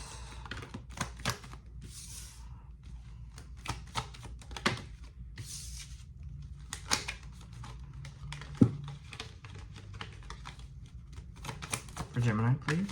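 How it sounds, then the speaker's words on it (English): Tarot cards being shuffled and pulled from a deck, giving close, crisp riffling and soft card slaps in irregular bursts, with a voice talking intermittently in between. "Just give me a minute here to pull out a few cards."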